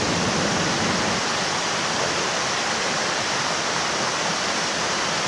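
The Madola river flowing between rocks gives a continuous, loud, broadband rush of water with no break, close by and with no voices.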